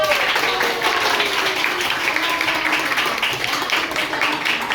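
Classroom applause from students for a presenting group, a dense steady wash of many hands clapping at once across the whole stretch, with a faint murmur of voices mixed underneath.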